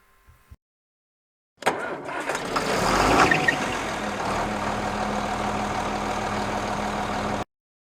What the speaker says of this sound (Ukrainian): Звуки працюючого трактора.